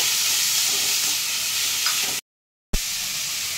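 Chopped tomatoes and green chillies sautéing over a high flame give off a steady, loud, broadband sizzle, cut by a brief silent gap before the frying resumes with a soft clatter.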